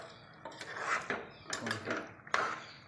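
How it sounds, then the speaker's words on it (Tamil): A utensil stirs marinated chicken into a pot of homemade biryani, giving soft, close scrapes and clinks against the pot in several uneven strokes. "நம்ம ஏற்கனவே ஊற வச்சுருந்த சிக்கன் தான் ஆட் பண்ணி நல்லா மிக்ஸ் பண்ணிக்கோங்க."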